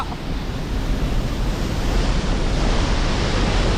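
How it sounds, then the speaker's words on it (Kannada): Water rushes with force at Vani Vilas Sagar dam in Karnataka, a loud, steady roar of turbulent flow that fills the whole clip without pause, mixed with wind buffeting the microphone. "ನೀರಿನ ಸ್ಪೀಡು ರಭಸ ಹೆಚ್ಚು ಕಮ್ಮಿ ಏನು ರಭಸ ಅಂತ ನೋಡ್ತಾ ಇರ್ಬೋದು ನೀರಿನ ಫೋರ್ಸು ಯಾವ ರೀತಿ ಇದೆ"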